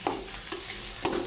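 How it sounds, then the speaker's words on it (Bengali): Onions dropped into hot oil in a pan while cooking a homestyle Bengali mixed-vegetable and chicken dish in yogurt: close, steady frying sizzle with a few sharper bursts and stirring scrapes, no talk. "তেল চুলায় দিয়ে তেলটা আমার গরম হয়ে গেছে। এখন আমি পেঁয়াজটা দিয়ে দিলাম।"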